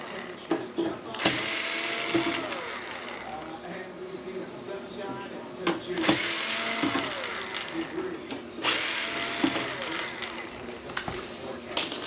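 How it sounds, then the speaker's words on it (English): A screwdriver removes four screws to detach cables from a Sony SXRD projection TV, giving close ratcheting clicks and whirring bursts, about three main runs separated by brief pauses, with faint mechanical taps between them. "that's done by just taking out these 4 screws right here"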